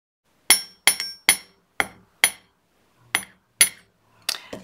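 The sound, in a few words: hammering wire earring hooks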